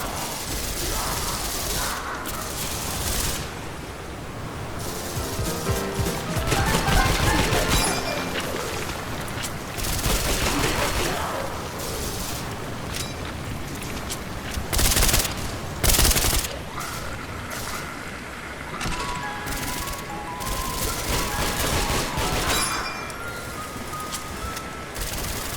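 A Browning machine gun in a Roblox zombies game fires in long rapid bursts among other gunfire, mechanical clanks and booms, a loud, busy stream of shots lasting throughout.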